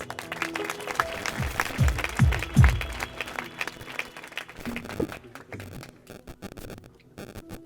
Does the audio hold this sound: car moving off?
no